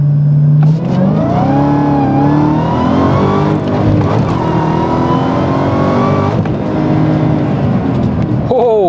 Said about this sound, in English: Let's do a quick on-ramp pull